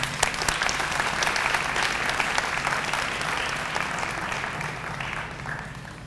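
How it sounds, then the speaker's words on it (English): Audience applause at a college honors and awards ceremony, a steady wash of many hands clapping from a sizable crowd, moderately distant and sustained, slowly thinning toward the end. "Give them a hand of applause."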